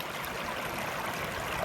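Steady broadband rush of water flowing at Bridal Wreath Falls in the Saguaro desert, a rare desert stream and waterfall, continuous and fairly close with no voices.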